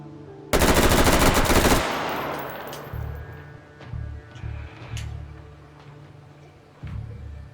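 A gun fires in the VR shooter game H3VR: a loud rapid automatic burst of over a second, then a decaying echo tail, followed by several low mechanical thumps and clunks.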